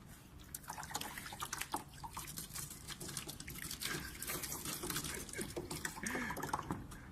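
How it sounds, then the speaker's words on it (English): Water discharging and draining from a heater tank in an Arduino-controlled process rig, a faint steady trickle with scattered drips and splashes, continuous throughout and fairly quiet. "the water is discharging from the heater."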